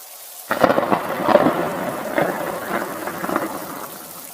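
Steady rain pours down, with low rumbles of thunder rolling underneath at moderate volume; no voices.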